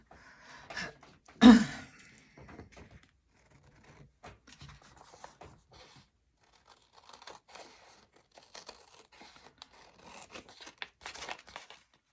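Scissors cut material for a handmade red gothic lap book, a few faint snips and crinkles scattered after one louder close knock, heard alone in a quiet room.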